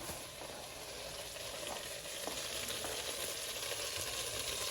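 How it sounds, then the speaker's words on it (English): Onion sizzles in a hot pot while it is deglazed for gravy, a steady close frying hiss with small crackles throughout and no voices. "deglaze the pot. Get all those good bits scraped off the bottom."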